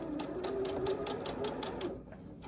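A sewing machine runs steadily, stitching through several thick layers of fabric for a pinwheel quilt block, with a fast, even mechanical chatter close by.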